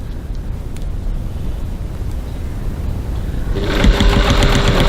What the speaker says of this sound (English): Doesn't really matter exactly where you stitch this. Baste it on.